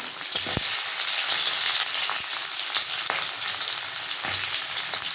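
Three large chopped onions and two tomatoes sizzle steadily in hot oil for a roasted onion chutney, a constant crackling hiss with a few soft clinks of a utensil against the pan.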